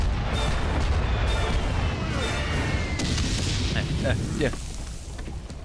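Booming cannon and artillery blasts from the Valiant Hearts war game, loud and repeated over a constant roar of battle noise, with a voice speaking briefly over the din.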